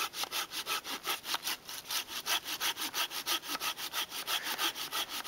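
A hand saw cuts through a resinous fatwood stump outdoors in Colorado with quick, even back-and-forth strokes, each rasping pass close and distinct in a steady rhythm.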